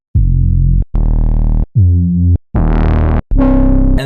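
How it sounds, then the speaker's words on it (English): A series of clean analog-style synth bass one-shots from a dark UKG, 140 and drum-and-bass sample pack, five loud sustained notes of varying pitch and tone, each about half a second long, separated by short gaps. "For that authentic old school analog sound, these are pretty simple but very universal basses you can use."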